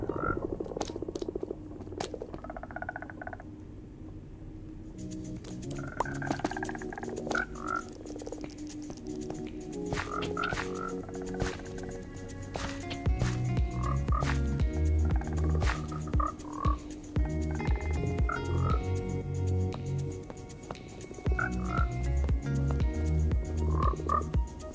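Frogs croaking in Minecraft: many short, repeated croaks layered over each other, some close and loud, others softer, in an irregular steady chorus over clicking game sounds, with no talk.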